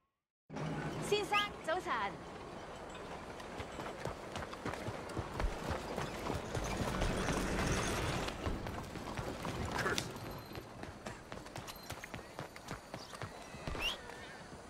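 Horse hooves gallop in Red Dead Redemption 2, a fast, continuous clatter of hoofbeats that stays fairly quiet and steady, with some mechanical rattles mixed in.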